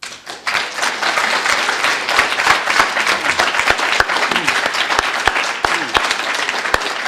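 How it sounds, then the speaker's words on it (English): Large audience at a university anniversary program clapping for students, loud and sustained applause with sharp individual claps standing out near the microphone, starting abruptly and carrying on steadily. "Could we have another round of applause for all the students"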